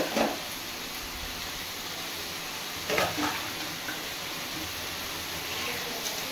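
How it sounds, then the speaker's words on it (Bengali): Banana flower and potato being stir-fried in a pan give a steady hiss with a couple of brief scraping stirs, close and moderately loud with no talking. "এদিকে আমি ভালো করে মোচাটাকে, আলু আর মোচাকে কষিয়ে নিচ্ছি।"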